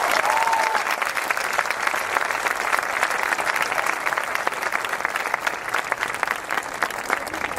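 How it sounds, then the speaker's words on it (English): Loud, sustained applause from an audience at a medical school white coat ceremony, many hands clapping densely and evenly with a brief whistle near the start. "can we have a special round of applause for the first cohort of MD6 students"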